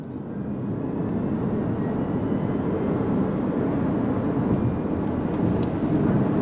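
A 2023 Toyota Prius Prime accelerates onto a freeway, heard from inside as a steady, loud, broadband roar of engine and road noise that holds even throughout, with no talking.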